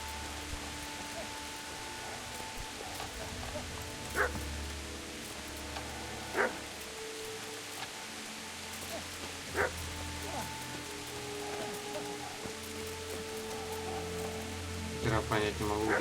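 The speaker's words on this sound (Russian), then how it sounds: "Я понять не могу, где эта собака." Steady rain patters on surfaces in the medieval video game Kingdom Come: Deliverance, while a dog barks a few times, sharp and somewhat distant, with a faint voice now and then.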